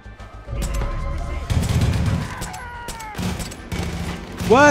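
Gunfire in the video game Far Cry 5: dense volleys and bursts of shots, loud and close, overlapping with a voice talking through much of the clip.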